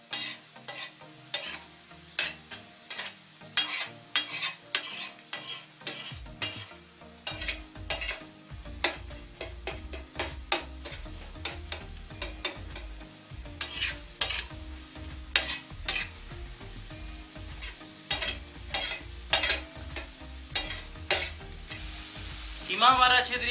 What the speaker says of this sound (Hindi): कीमे को अच्छे तरीके से भून लेंगे।